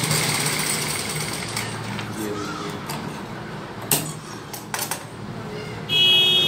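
A sewing machine stitches fabric along the third side of a garment panel, giving a steady, rattling mechanical whir that runs throughout, broken by a few sharp knocks and clicks near the end.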